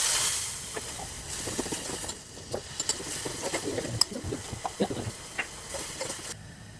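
Crushed garlic cloves sizzling in hot ghee for a tempering, a strong hiss at first, then crackling and popping sputters close by, with soft kitchen movement.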